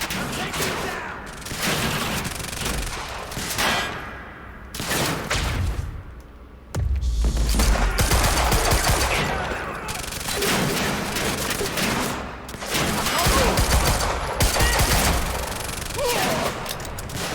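Rapid bursts of gunfire from the video game Quantum Break, with repeated loud volleys and heavy thumps in a tense firefight inside an R&D facility, and occasional voices heard among the shots.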